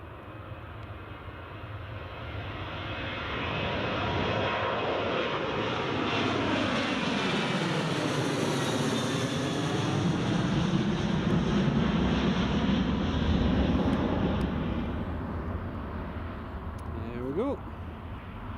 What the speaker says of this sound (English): Right, here goes a Ryanair off to Alicante.